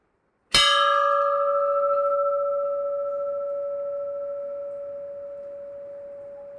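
A single temple bell strike used for meditation, a sharp metallic onset followed by a long, pure ringing tone that decays slowly over several seconds, alone in quiet.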